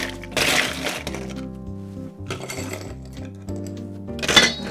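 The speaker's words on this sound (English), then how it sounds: "fill her up with ice" Ice cubes drop into a highball glass in a few bright, clattering bursts, clinking and cracking near the microphone with quieter pauses between them.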